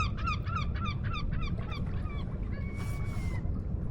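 A duck or goose at a river mouth honks in a quick run of nasal calls that trail off into a few longer calls over low wind rumble, moderately close.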